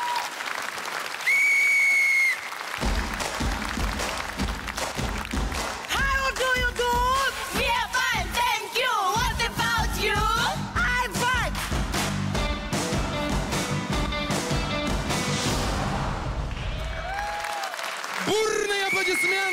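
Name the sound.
enthusiastic audience applause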